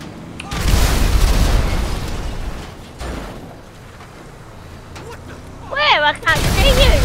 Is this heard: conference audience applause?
no